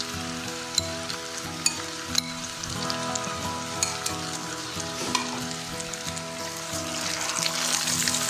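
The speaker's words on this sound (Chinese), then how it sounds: "放入香菇翻炒一下， 把豆腐放进去，倒入调好的料汁" Shiitake mushrooms and tofu stir-fry in a pan with sauce, a steady close sizzle broken by occasional scraping clinks of the spatula, with the frying growing louder and more crackly toward the end.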